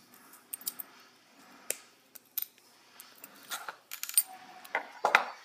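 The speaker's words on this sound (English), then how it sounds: "bend another loop at the top, trim off the excess" Wire being snipped off with cutters while making a coho fishing lure: scattered sharp metallic clicks and snips, close and fairly quiet, with brief handling rattles between them.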